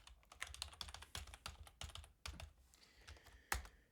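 Keys on a computer keyboard are tapped in quick, uneven bursts as a password is typed, with sharp close clicks and a louder final keystroke near the end, no voices.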